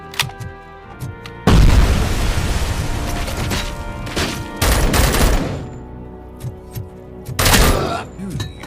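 Grenade blasts in the video game RoboCop Rogue City, heavy booming explosions layered with bursts of gunfire, loud and close, recurring over several seconds with brief lulls, a voice occasionally talking underneath.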